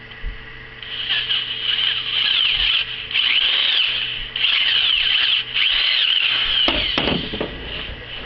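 Loud power drill whirring in sustained bursts with brief pauses while drilling parts for a forge burner, pitch rising and dipping as it bites, followed by a few sharp clanks.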